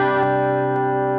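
Electric guitar run through an Airstep TX pedal with a modulation effect switched on, giving a sustained, shimmering chord that rings steadily and loudly throughout, with no talking.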